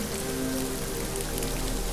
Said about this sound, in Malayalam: എന്നിലേക്ക് പെയ്തിറങ്ങുന്ന ഈ മഴയുടെ ഓരോ തുള്ളിയും